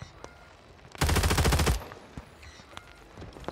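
A burst of rapid SMG fire in Warzone 3, one loud fast-rate volley lasting under a second, with faint distant shots and game noise before and after.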